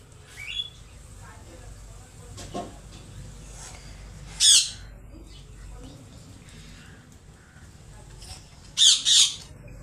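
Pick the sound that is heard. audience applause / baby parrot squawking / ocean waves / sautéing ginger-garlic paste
baby parrot squawking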